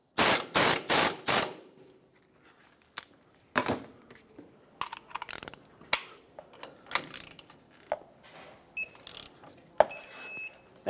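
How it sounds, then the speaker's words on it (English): A torque wrench tightens a castle nut on the control arm of a 1996-2002 Toyota 4Runner, giving brisk bursts of mechanical ratcheting and metallic clicks close by, followed by scattered clanks and a few short electronic beeps. "and then torque it to 80 foot-pounds"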